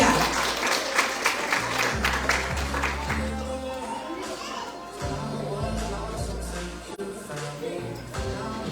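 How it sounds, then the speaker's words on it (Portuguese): An evangelical church congregation claps at the start of a worship service, with a loud burst that fades after a few seconds under speech, murmuring voices and lingering scattered claps. "Aplauda o Senhor porque Ele é bom"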